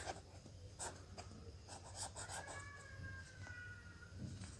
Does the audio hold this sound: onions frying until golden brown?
no